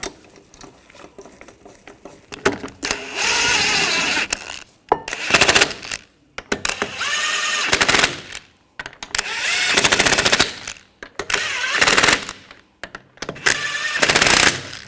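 Lug nuts are spun on and snugged onto a rear wheel of a 2014-2020 Nissan Rogue, likely with an impact tool, in five loud rattling bursts, each a few seconds long, separated by short pauses.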